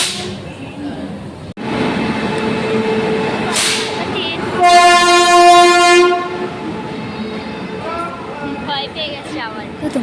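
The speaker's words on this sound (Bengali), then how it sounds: "যত ট্রেনের হরেনগুলো বাজছে না তত বাবু ভয় পাচ্ছিল।" Train horns sound at New Delhi railway station: a short blast, then a long, loud, steady horn over the rumble of rail traffic, with voices and a child's crying around it.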